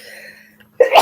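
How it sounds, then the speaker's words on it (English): A single sharp sneeze bursts out abruptly from a woman during a quiet live talk, loud and close, coming after a faint stretch of near-silence. "I have a sneeze coming on"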